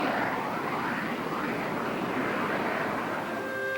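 High-performance military jet aircraft flying, a steady, loud, broadband roar that holds level throughout, heard alone without any talking.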